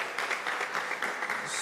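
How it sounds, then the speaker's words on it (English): Audience applause after a plenary presentation at a hydrogen metallurgy symposium, a short burst of many hands clapping at moderate volume in a conference hall. "let's give a big applause for Dr."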